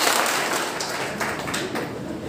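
A seminar audience in a hall claps together in a steady, dense wash of applause that holds at an even level for about two seconds.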